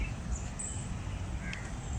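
Crows cawing among other birds in a garden in Sri Lanka, a few calls over a steady outdoor background of hiss and low rumble.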